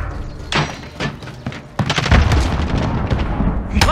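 A grenade explosion in Call of Duty: Modern Warfare, with a deep boom rising over ongoing gunfire and game noise, followed by sustained loud rumbling and crackling shots, no speech.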